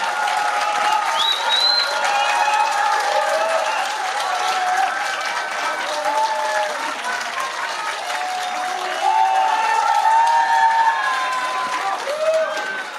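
Crowd applause and cheering at a Reform Party presidential election rally in Korea, welcoming the campaign chairman: continuous clapping with scattered shouts and whistles, steady and fairly loud for the whole stretch.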